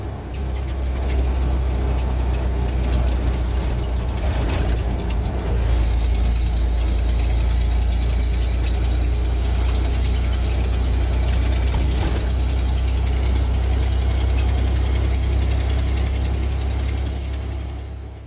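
A 1989 Ford F-150 engine idling roughly, a loud, steady low rumble with an uneven, lumpy beat and a faint ticking rattle over it, continuous and close.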